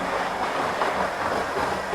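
A model railway train runs along a layout with a steady, close rolling rumble and faint clicking from the track, continuous over a short stretch with no talk.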